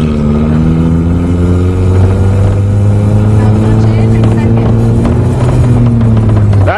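Manual-transmission car engine revving and pulling steadily under acceleration, a loud continuous droning rumble with shifting pitch, held close throughout as a learner driver gives it gas.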